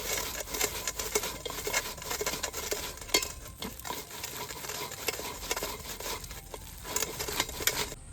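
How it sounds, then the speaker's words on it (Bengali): Ripe palm fruit being rubbed against a metal grater to draw out its pulp, a steady wet scraping and rasping that carries on continuously at close range with no voices. "গেটারের সাহায্যে তালের পাল্পটা বের করে নেব"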